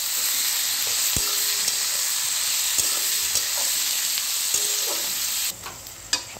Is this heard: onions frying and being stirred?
yes